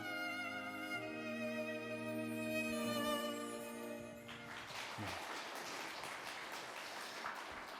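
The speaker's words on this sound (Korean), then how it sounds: "우리의 박수는 하나님께 올리신 줄로 믿습니다." A church congregation applauds at an Advent Sunday service, right after sustained choir and organ music fades out. The clapping is a dense, steady patter of many hands that fills the room for several seconds.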